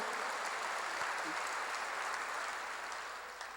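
A church congregation claps together in a sustained, dense round of applause that fills the room evenly, then gradually tapers toward the end.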